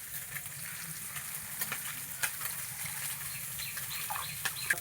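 Small chuno fish frying in a pan for a village-style curry with bottle gourd greens: a steady, close, moderately loud oil sizzle with faint crackles and pops, no talking.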